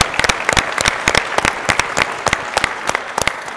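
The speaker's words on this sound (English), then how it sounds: "So a round of applause, please." Convention audience at a 2018 United States Aquatic Sports gathering applauding, dense steady clapping from many hands with individual claps standing out close by, loud and continuous throughout.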